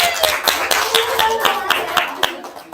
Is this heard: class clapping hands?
yes